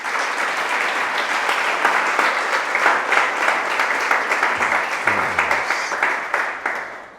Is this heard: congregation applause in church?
yes